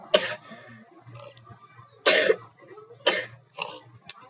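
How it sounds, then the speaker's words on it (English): A person with a cold coughs and clears their throat repeatedly, with several sharp, raspy bursts spaced a second or so apart over a low steady hum, close to the microphone. "sorry, I have a cough and I'm sick"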